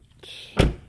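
Door of a Honda Civic swinging shut with one solid, close thunk, preceded by a faint latch click, in an otherwise quiet space.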